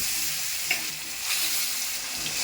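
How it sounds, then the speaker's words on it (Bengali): Pieces of catla fish fry in hot oil, a dense, steady close-up sizzle with a faint clink or two, short and unbroken, no voices. "এবারে মাছগুলোকে ভেজে নেব।"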